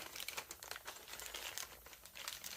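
Faint, steady crinkling of a plastic swag bag pulled from a Veto Pro Pac tool bag box, continuous close rustling with no speech.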